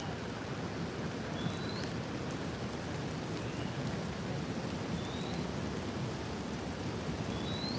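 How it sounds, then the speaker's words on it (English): Steady rain falls outdoors as a constant, dense hiss with no break, while a few faint, thin bird chirps rise briefly above it. "refreshing out there in that rain, nature."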